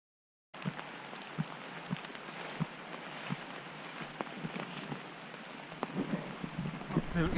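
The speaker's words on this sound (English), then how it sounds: "it just started raining" Rain patters steadily on a French canal bank during a carp fishing session, a dense continuous hiss with scattered heavier drops tapping nearby surfaces, starting abruptly and holding even loudness throughout.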